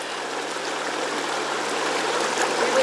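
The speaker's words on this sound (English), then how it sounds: "And we just rinse and rinse and rinse." Running water pours steadily from a tap while buffalo meat is rinsed, a continuous close, bright splashing rush with no pauses and no voices.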